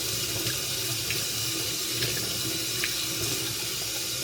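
Cold tap water runs steadily over and around a DJI Osmo Action 6 action camera without a waterproof case, a close, continuous splashing gush with faint droplet ticks throughout.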